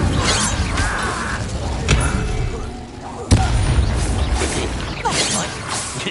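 Incendio fire spell bursts in the Hogwarts Legacy video game on PS5: loud crackling, booming blasts repeating through a chaotic duel, with sharp impacts and a voice calling out amid the noise.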